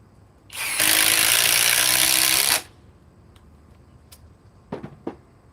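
A Cobalt cordless power drill spins up loudly and runs steadily for about two seconds, then winds down, followed by a few faint clicks and handling knocks.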